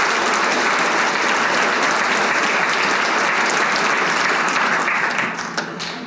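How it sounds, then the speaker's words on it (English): Attendees at a live dealer event clap loudly for the top dealers, a thick, continuous round of applause that holds strong for about five seconds before thinning and tapering off. "Let's give those top dealers a round of applause."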